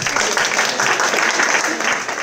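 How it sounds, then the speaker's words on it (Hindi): An audience at a World Hindi Day celebration applauds, a loud, even roar of many clapping hands continuing throughout the moment, with faint voices mixed in. "मैम प्लीज़ तालियों से आप मैम का अभिनंदन कीजिए"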